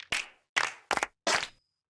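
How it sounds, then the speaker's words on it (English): Four sharp clap drum samples played back one after another in FL Studio, each a crisp bright snap with a short tail, evenly spaced and alone. "And now you can listen to claps quickly"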